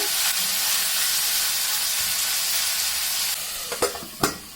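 Chilli chicken sizzles and fries in a pan with a steady, close hiss, then ends with a few sharp clinks of a spoon or lid.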